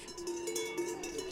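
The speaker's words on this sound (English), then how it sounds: "these cows spend their whole lives with bells on" Cowbells worn by fighting cows clank and jingle in a steady, overlapping metallic ringing from nearby during a bout between two cows.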